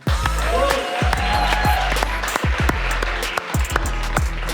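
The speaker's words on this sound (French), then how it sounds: "On peut l'applaudir bien fort." Audience applause on the set of a French hot-wings interview show, with clapping mixed under music beats and lively voices.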